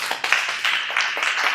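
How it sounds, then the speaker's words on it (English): An audience at a keynote celebration event claps in a short, dense burst of applause, many hands striking in quick irregular succession close by. "So you give yourself a round of applause."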